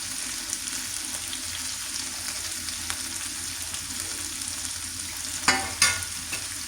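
Sardines (mathi) coated in masala fry in a pan with a steady, close hiss, broken near the end by two sharp clatters as the fish is turned or a lid is handled.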